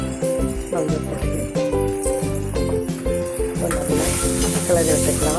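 A thick tamarind and turmeric mixture is stirred in a pan on the heat, with scraping strokes and a rising sizzle under a loud, layered background tune that runs throughout.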